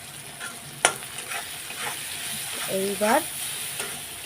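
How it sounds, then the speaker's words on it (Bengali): Turmeric and Kashmiri chili powder frying with spices in oil, stirred with a utensil: a soft sizzle broken by a sharp scrape or tap and a few scraping strokes, with a brief spoken word in the middle. "একটু ভাজা ভাজা করে নিই"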